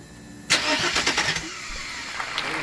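Car engine cranking and catching, a brief starter whir that bursts into a rough mid-pitched running sound and settles into a steady idle, fairly near, with no voices.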